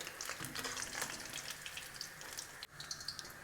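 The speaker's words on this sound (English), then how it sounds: "So now it's beginning to boil" Bulgur wheat and lentils start to boil in a pot, a steady close hiss and bubbling with a faint sizzle, continuous and fairly quiet with a brief dip near the end.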